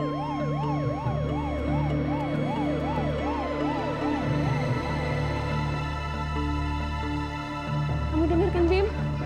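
An ambulance siren wails, rising and falling in steady repeated cycles over a low engine hum, fading toward the end as voices and commotion break in.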